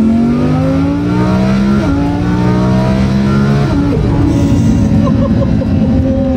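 Twin-turbo Lamborghini Huracan Performante accelerates hard and loud, the engine note climbing through the revs, dropping briefly at gear changes, then climbing again.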